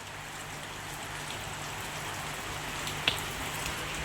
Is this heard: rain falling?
yes